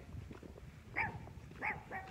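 A small dog gives two or three short, high yips at a distance over a low, rumbling background, separated by brief gaps.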